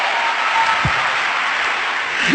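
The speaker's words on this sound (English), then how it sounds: "Give Jesus a wonderful clap of praise." A church congregation claps in praise after a testimony, a dense burst of steady applause filling the room from start to finish with no speech.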